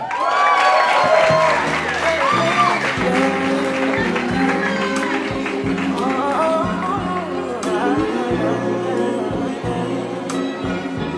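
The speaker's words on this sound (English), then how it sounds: "Clap it up for Maina Murumba, everybody." Audience at a comedy show applauding and cheering as comedian Maina Murumba is introduced. Crowd noise and whoops run throughout under loud music and a voice, sustained for around eleven seconds.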